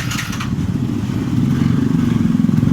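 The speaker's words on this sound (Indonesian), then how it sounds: "Nah, di sini motornya sudah menyala." A fuel-injected Yamaha Mio J motorcycle with an electrical fault in its fuel pump circuit starts up and settles into a close, loud, steadily chugging idle.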